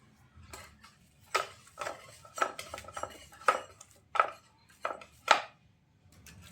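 A sharp knife cutting through martabak manis Bangka, about six crisp, evenly spaced cuts knocking against the surface underneath, close and clear in a quiet room.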